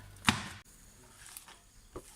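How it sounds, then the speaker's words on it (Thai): A single sharp knife chop through water spinach on a board, followed by a few faint, sparse taps in a quiet room. "แม่ก็มาหั่นผักบุ้งนะคะ"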